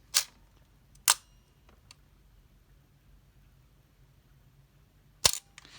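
A Nikon Nikkormat EL film camera fires its shutter at slow speeds: sharp mechanical clacks, each pair of opening and closing snaps spaced about a second or longer apart, close and loud in a quiet room.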